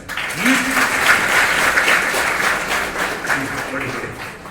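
Sustained applause from a student union event at Mahantaswami Arts, Science and Commerce College in Hamsabhavi, a dense crowd of hands clapping steadily and loudly for several seconds, with a brief voice-like tone underneath.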